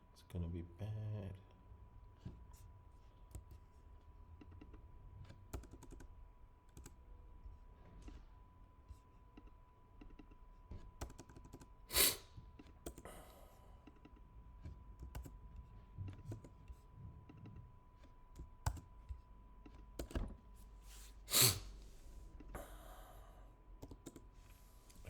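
Fingers type on a computer keyboard, entering overbooking formulas: quiet, irregular clicks and short bursts of keystrokes in a quiet room, with a couple of louder taps standing out.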